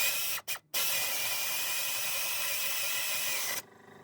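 Ratchet on a 1/2-inch drive swivel turning while a Warn VR EVO winch is fitted to a Jeep Wrangler JL. Two short bursts come first, then a dense, steady, loud rapid clicking that stops abruptly near the end.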